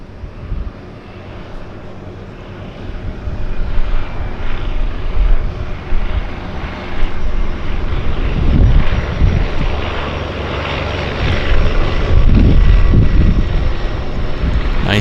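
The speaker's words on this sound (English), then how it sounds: "once we've got this aircraft landed" A floatplane lands at Vancouver Harbour airport, its propeller engine droning steadily and loudly, swelling and rumbling as it touches down on the water.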